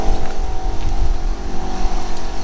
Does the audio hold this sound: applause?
no